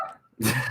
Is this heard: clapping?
no